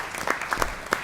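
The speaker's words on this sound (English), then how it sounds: "we'll give her a round of applause" Short bursts of clapping ring out in a school board meeting hall, a brief round of applause from the audience with uneven, pulsing peaks.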